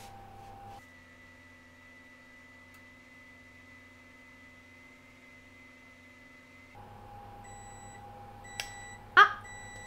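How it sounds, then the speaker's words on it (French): A kitchen oven timer beeps near the end while cookies bake, a few short electronic beeps over a steady low appliance hum, followed by a brief clatter. "Le bip de la minuterie va bientôt sonner."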